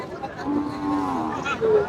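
A red Sahiwal calf, six to seven months old, lowing at a cattle market near the border, a drawn-out nasal moo rising again at the end, close and fairly loud.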